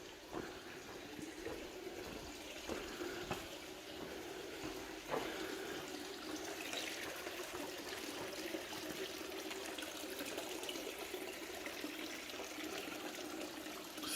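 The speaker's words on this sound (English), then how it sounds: "Now I can show you the source of water." Water runs steadily at a natural spring by the Church of the Multiplication, a faint continuous trickling flow heard alone with no talking.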